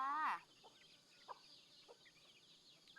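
Black-meat chickens on a village farm give soft, scattered clucks after a brief loud call at the start, faint and close in a quiet yard.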